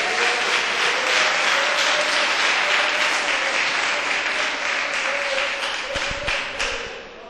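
A church congregation applauds for Jesus with dense, sustained clapping that fills the room for several seconds and then tapers off toward the end.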